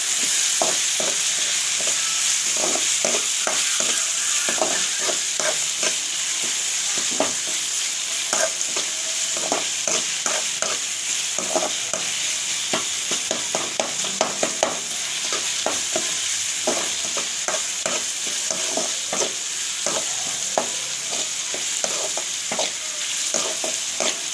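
Onion and two finely chopped tomatoes sauté in a pan for a Tamil sundakkai kara kuzhambu, with a steady bright sizzle and frequent scraping stirs ticking through it, close and loud, no talk.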